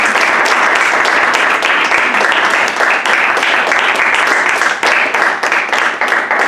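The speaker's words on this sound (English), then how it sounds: "I'd like to hear a round of applause from the club." Loud, steady applause from a crowd, dense clapping that carries on without a break throughout.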